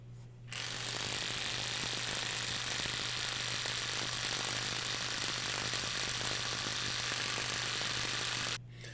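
A Hercules brushless 1/2-inch impact wrench from Harbor Freight runs in reverse to break a nut loose, giving one loud, continuous hammering rattle over a steady hum for about eight seconds, with no talking.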